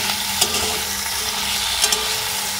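Onions and tomatoes fry in a pan with a steady, soft sizzle, broken by two brief scraping stirs; no one speaks.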